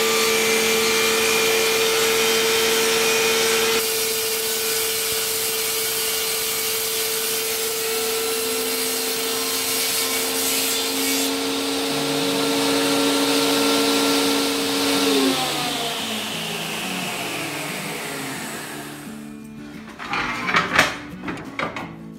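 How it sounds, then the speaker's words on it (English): A shop vacuum connected to the saw whines steadily while the saw cuts through aluminum, pitch sliding down as the blade slows, then clattering bangs at the end. "I do have a shop vac connected to the saw"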